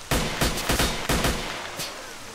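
Gunfire from a weapon in S.T.A.L.K.E.R.: Shadow of Chernobyl, about six loud booming shots in an uneven rapid sequence, each with a short echoing tail, alone without talk.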